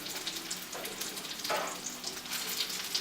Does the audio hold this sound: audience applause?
no